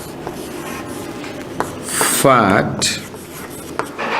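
Writing scrapes across a classroom board in short strokes and taps, close and clear. A voice speaks briefly over the writing.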